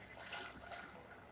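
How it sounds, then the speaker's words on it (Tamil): Water poured into a pan of sev tomato curry, a faint, brief liquid splash and trickle close by. "இப்போ இதில் தேவையான அளவு தண்ணி விட்டுக்கோங்க."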